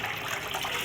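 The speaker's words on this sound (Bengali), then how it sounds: "বিকেলের জল টলগুলো ভরে নিই, এখান থেকে জল ভরি" Water gushes steadily from a tap into a container, a continuous close hiss with no voices over it.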